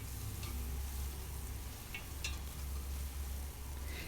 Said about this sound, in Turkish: Güzelce nanemizi de kızartıyorum bu şekilde.